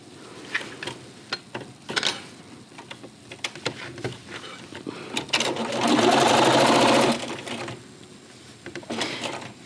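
A sewing machine fitted with a walking foot stitches a small fabric pencil cup in short stop-start bursts of fast ticking, then runs one longer, steady, louder stretch before slowing into brief pulses.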